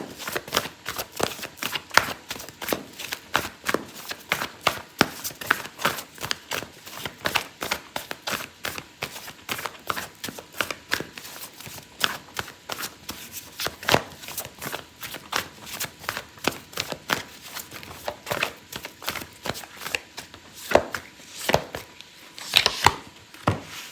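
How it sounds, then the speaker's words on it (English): A deck of oracle cards is shuffled close up for a long stretch, giving rapid, uneven clicks and riffling snaps that continue without a break and without any voice. "I'm gonna pull out an oracle card for you"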